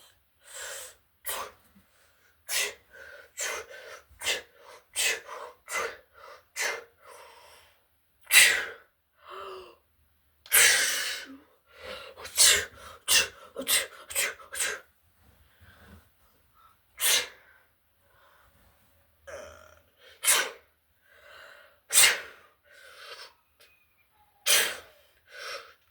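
A person sneezes over and over after taking a sneezing potion, with gasps, snorts and heavy breaths between the bursts, close and fairly loud.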